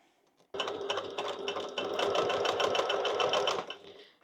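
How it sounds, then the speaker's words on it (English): A sewing machine runs a seam across a beginner handbag with zipper and handle, starting abruptly and holding a fast, steady needle rattle for about three seconds before stopping, close and clear without speech. "now we're going to sew across there at 10 mil, and then do another seam, reinforcing seam"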